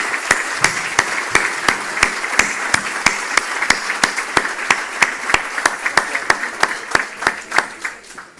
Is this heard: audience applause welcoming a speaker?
yes